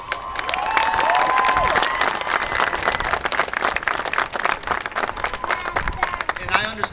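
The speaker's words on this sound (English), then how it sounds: "So let's give them a round of applause." Audience applause at a Marine Corps recruit graduation ceremony at MCRD San Diego, a large crowd clapping and cheering steadily throughout, with scattered shouts and voices mixed in.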